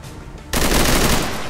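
Loud rapid automatic gunfire from XCOM 2 Long War erupts after a brief quiet moment, a dense sustained burst of shots.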